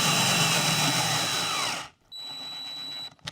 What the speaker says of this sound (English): I've started using a drill more often instead of my impact for screws